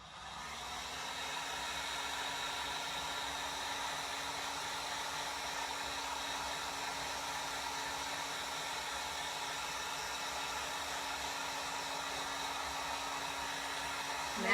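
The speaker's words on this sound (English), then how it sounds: "so I'm going to use this heat gun again" A heat gun blows continuously over fresh paint on a craft topiary, a steady whooshing hum that starts up and holds at an even level throughout.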